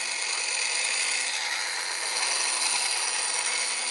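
A hand plane blade ground back and forth on a sharpening surface gives a steady, bright, hissing scrape that runs continuously and fairly loud, with no voices.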